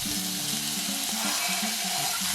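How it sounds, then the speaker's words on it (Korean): Chopped lasagna ingredients dropped into hot oil in a pan give a loud, steady, close sizzle and crackle that fills the whole clip, with no talking. "기름을 두르고 손질한 재료를 한 번에 넣어주세요."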